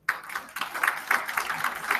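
An audience at a university mixer clapping for themselves, dense rapid handclaps starting abruptly and continuing in uneven bursts, fairly close and loud.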